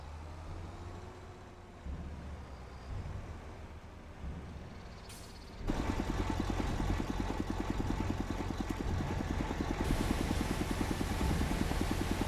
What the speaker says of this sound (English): it's another thing I don't like about the New Holland is the engine noise when you're outside